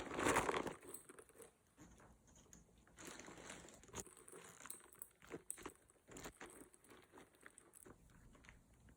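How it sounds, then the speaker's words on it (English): A thin lambskin leather Isabel Marant Neway bag is handled, giving a brief louder crinkle at the start followed by quieter, scattered crinkling and crunching rustles close by, with no talk. "It feels pretty thin, and it makes that crinkling noise."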